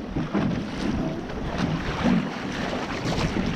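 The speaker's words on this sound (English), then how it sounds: "As long as the wind keeps blowing, we're all good." Steady wind rushing over a sailboat under sail on a lake with no motor running, a continuous broad whoosh with gusty swells and faint water movement, no talking.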